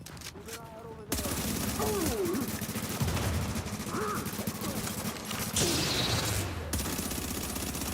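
Heavy enemy gunfire in The Division video game: a sustained loud barrage of rapid shots that starts abruptly and continues throughout, mixed with impact sounds and other game effects, with a voice talking over it.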